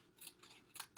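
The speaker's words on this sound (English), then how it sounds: "We're going to take our scissors again." Scissors cutting paper to round off a paper fish's head for a craft, three or four quick, crisp snips close up and very quiet, with no talking.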